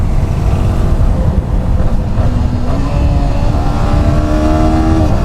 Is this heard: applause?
no